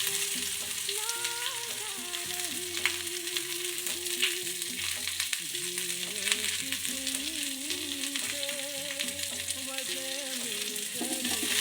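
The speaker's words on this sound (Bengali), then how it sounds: "তেলটা গরম হলেই, এটা গরম হয়ে গেছে, এবার আমি পেঁয়াজগুলো প্রথমে দিয়ে দেবো" Onions sizzle steadily in hot oil in a home kitchen, making a continuous dense crackle with occasional stirring. Background music plays quietly underneath.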